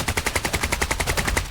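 A fast, steady burst of full-auto gunfire in the video game Arena Breakout: Infinite, about a dozen evenly spaced shots, loud and close with no talking.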